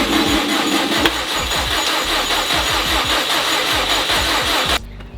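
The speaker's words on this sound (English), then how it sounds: "This engine sounds way, way healthier than the last one." A 20-year-old Subaru WRX STI engine cranks and catches, chugging in a rough, rapid rhythm up close before cutting off abruptly near the end.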